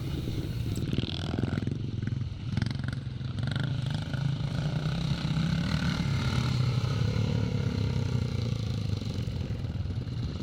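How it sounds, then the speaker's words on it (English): Vintage BSA Victor motocross bikes race on a Scottish classic course, their engines droning and clattering at mid distance in a steady, continuous mix with no voices. "that's Gordon Watson, also riding an old BSA Victor"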